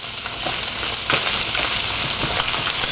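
A duck leg sears skin side down in a hot cast iron pan, a loud, dense, steady sizzle and crackle close up, with no voices.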